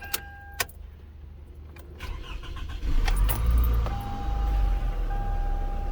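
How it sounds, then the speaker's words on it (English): Keys jingle briefly, then a car that had been vibrating and stalling cranks and catches, settling into a steady low idle that rumbles on to the end. "let's go ahead and start the car"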